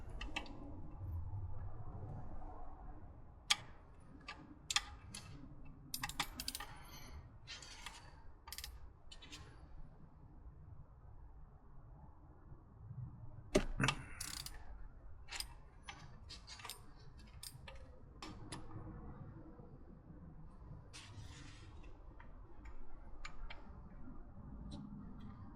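Ratcheting socket wrench working loose a glow plug on a Land Rover Defender TD5 diesel engine: sparse, close metallic clicks and ticks in irregular bursts over a low, quiet background, with no talking.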